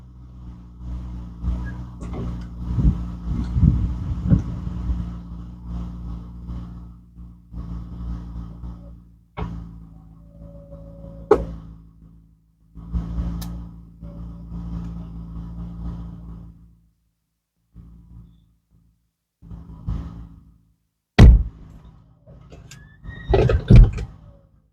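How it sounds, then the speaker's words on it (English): A Cadillac convertible top closing: electric motor whirring in repeated bursts with mechanical clunks and pauses, then sharp clicks and a short ding near the end, all close by. "Now we're going to put that top back up"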